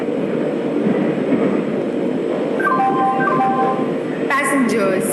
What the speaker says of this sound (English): Train number 12655 Passenger Express is arriving at platform